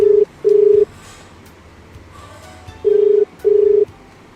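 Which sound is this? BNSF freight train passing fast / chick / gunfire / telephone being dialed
telephone being dialed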